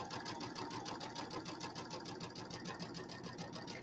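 Sewing machine stitching a settee pillow seam, a continuous fast rhythmic mechanical whir with even clicking pulses, close and steady throughout, faint overall.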